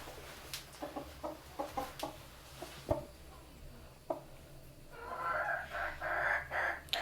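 Backyard chickens cluck in short scattered bursts, fairly faint against steady low background noise and dripping rain, with a louder patch of rustling and bird calls near the end.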